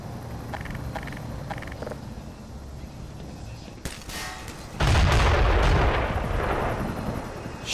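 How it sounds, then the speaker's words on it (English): Bombs drop and explode in the Black Mesa video game: a faint booming rumble builds, then a loud, sustained blast of explosive roar and debris hits at about five seconds and keeps rolling to the end. "whoa, what's with the bombs dropping?"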